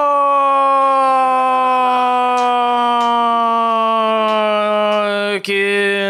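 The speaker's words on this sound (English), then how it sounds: "now I hear this air raid siren on the street" A loud, steady air raid siren wails continuously on a street with a sustained, slowly drifting tone, briefly dipping near the end.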